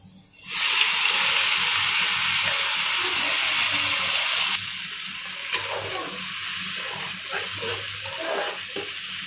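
Spice masala for dal pakode sabzi sizzles in a hot pan, a loud sudden hiss of frying that settles into a steady crackling sizzle and then softens, with no talking.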